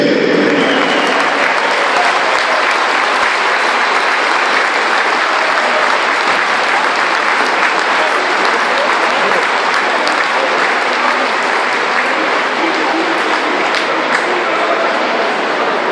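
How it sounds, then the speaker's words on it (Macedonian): A large audience at a football anniversary celebration applauds loudly and continuously, a dense unbroken wall of clapping with no gaps. "Дайте ми аплауз"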